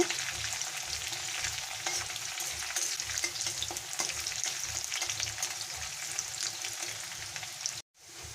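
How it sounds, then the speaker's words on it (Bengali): Onions sizzle steadily in a hot pan while cooking for a jackfruit and chicken dish, a dense, continuous frying crackle close by, with faint stirring scrapes and a brief drop near the end. "পেঁয়াজটা ভাজা হয়ে গেছে"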